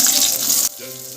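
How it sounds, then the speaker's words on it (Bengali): Boiled kidney beans (rajma) hit four spoons of hot oil in a kadai, giving a loud, hissing sizzle that drops suddenly to a softer, steady bubbling fry. "তেলটা গরম হওয়ার পর আমি সেদ্ধ করা রাজমাটা ছেড়ে দিলাম এর মধ্যে।"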